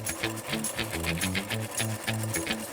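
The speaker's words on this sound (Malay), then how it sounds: "menjahit sarung bantal dengan menggunakan mesin jahit" A sewing machine stitches a pillowcase, its rhythmic mechanical whirring running steadily and close by with a regular chattering pulse and no talk over it.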